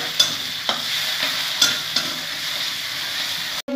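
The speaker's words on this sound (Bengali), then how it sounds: "তেলটা দিয়ে দিলাম, এখন একটু ভেজে নেব" Oil with onion sizzles in a pan for a Bengali eggplant dish cooked in fish oil, a steady close hiss punctuated by four or five sharp spatula taps at irregular intervals, then a sudden cut to silence at the very end; no one speaks.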